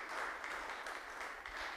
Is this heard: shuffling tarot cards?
no